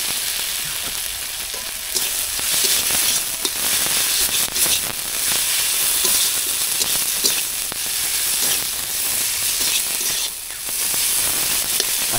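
Shol (snakehead) fish sizzles steadily in a hot pan for a fish curry, a dense continuous frying hiss with small crackles and no voices.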